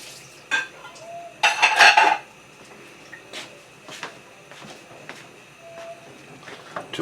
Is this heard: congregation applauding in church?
no